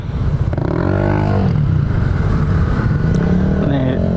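Steady street traffic in White Plains, with cars and motorcycles passing close by in a continuous, loud engine rumble. Someone talks over it throughout.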